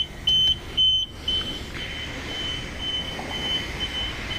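A coin-operated car wash gives off a few short, piercing beeps near the start, each loud and spaced apart, then only a faint repeated tone continues over a low background hiss.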